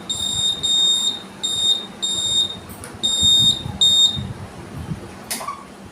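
Shrill electronic buzzer on a low-budget IR sensor project, sounding in six short, even, close bursts of piercing tone separated by brief gaps, followed by a faint click.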